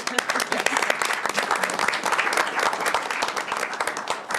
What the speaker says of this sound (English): I feel like we should clap for that one too.